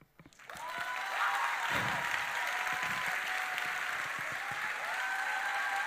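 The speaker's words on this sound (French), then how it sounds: "Applaudissez-le encore!" An audience at an international debate competition final breaks into loud, sustained applause for a speaker, rising quickly after a brief quiet start and holding steady, with faint cheers mixed in.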